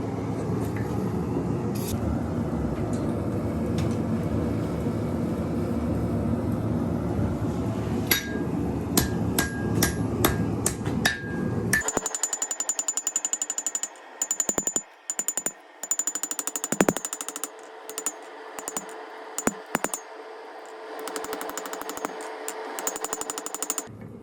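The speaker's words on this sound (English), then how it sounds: "You can hammer it a little bit when it's not hot" Metallic hammer blows on hot mild steel for a knife ring out, first a quick series of sharp strikes, then irregular clangs over a low background hum, fairly close.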